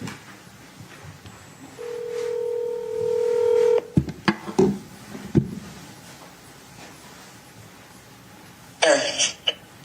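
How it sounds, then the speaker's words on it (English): A phone number is dialed: a run of steady touch-tone beeps and button presses, followed by a brief burst of noise near the end. "Liz, I'm going to try to call you, okay?"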